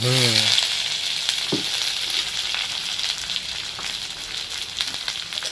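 Chopped onions frying in oil for a mashed-potato bharta, a steady broadband sizzle running throughout with a brief stir knock near the start.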